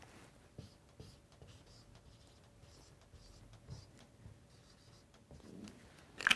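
Faint marker or chalk strokes scratch across a classroom board in short, irregular bursts, quiet and close, ending in a louder scrape.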